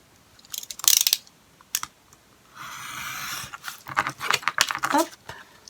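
A craft knife cutting paper while making a handmade card, with sharp scraping strokes in short bursts around a longer steady slicing pass, close and clear, with light handling clicks between the strokes.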